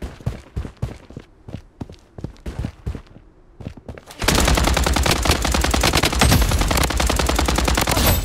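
Gunfire in the video game Project Blood Strike: a few sharp shots and thuds give way to a loud, continuous automatic burst that fills the second half, with no voices.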